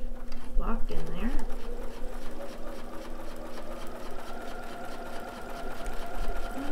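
A sewing machine hums steadily while stitching a Christmas tree napkin coaster, close and continuous, with a person talking over it.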